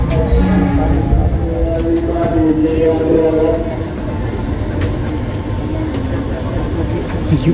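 Argo Dwipangga passenger train at a station, a heavy low rumble and hum of the train and platform surroundings continuing steadily, with voices or announcements audible over the noise.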